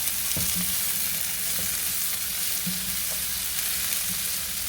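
Vegetables sauteing in a hot pan for beef stroganoff, a continuous close sizzle with a few scraping stirs and clinks against the pan, no voices.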